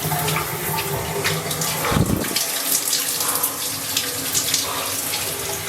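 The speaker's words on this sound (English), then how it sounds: "Cold shower now." Cold shower water runs steadily from the head, a continuous close hiss that briefly surges and splashes heavier for a moment before settling back into an even, unbroken spray.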